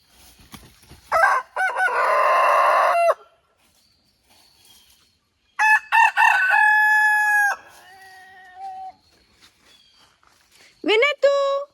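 Red junglefowl roosters of the Diego strain crow loudly and close by in several long harmonic bursts, with a shorter crow at the end, separated by quiet gaps.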